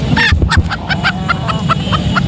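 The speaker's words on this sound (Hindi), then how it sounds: "ये मुर्गी है बैंटम" Bantam chickens at a bird market give repeated short calls, about eight evenly spaced squawky clucks, close and fairly loud over a low background rumble.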